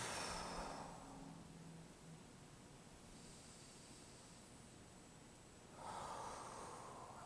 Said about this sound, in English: Take some nice big deep breaths.